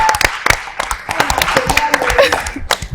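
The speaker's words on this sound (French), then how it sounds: "applaudissez encore pour nous-mêmes" Scattered clapping from an audience at a Women's Day event on 8 March, irregular and close, with a few voices and light laughter mixed in.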